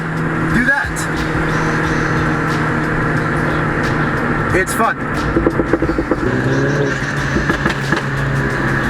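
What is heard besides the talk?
Mini Cooper turbo whoosh noises while driving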